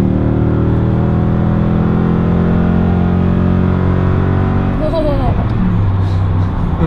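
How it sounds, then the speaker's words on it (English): A 2019 Toyota Tundra TRD Pro V8 pulls hard under full throttle, its exhaust note rising steadily as the truck accelerates, loud and continuous, with the pitch shifting near the end as the gear changes. "Toyota did a bang up job on the exhaust"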